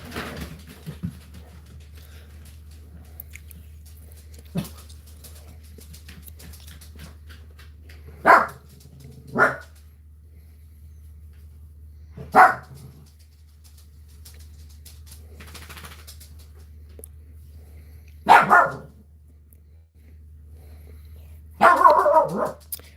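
Several dogs bark in separate short bursts at night, the loudest yaps near the end, spaced by long quiet gaps over a steady low motor hum in the background.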